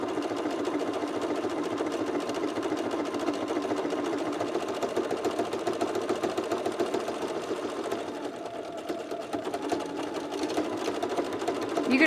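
A sewing machine stitching pants, running steadily for the whole stretch as a rapid, even mechanical whirr with a faint rhythmic chatter, fairly quiet and with no talk.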